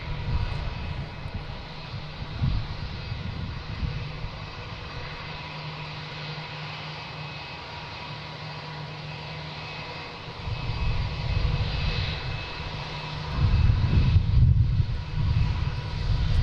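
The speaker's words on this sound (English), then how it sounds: "Lufthansa 747-400, actually 430 to be specific." Lufthansa Boeing 747-400 jet engines at Boston Logan International Airport, a steady low roar heard from a distance that swells louder toward the end, with no talking.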